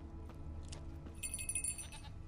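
A goat bleats in The Witcher 3 video game, a few short bleats over a steady low game ambience and music, fairly quiet and somewhat distant.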